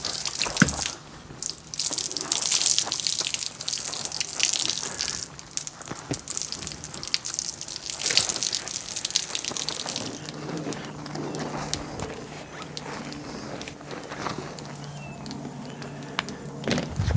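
Water splashing and running over a truck during a hand wash, a steady spray with drips and gushes, fairly close, with pauses as the flow shifts.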